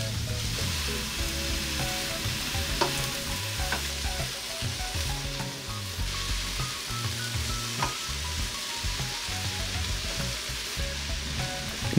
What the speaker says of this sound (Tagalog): Ginigisa ko lang ito ng mga 3 minuto.